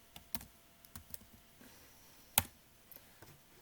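Light, sparse keystrokes on a computer keyboard as an HTML doctype is typed, faint and close, with irregular clicks and one sharper tap midway, no talk.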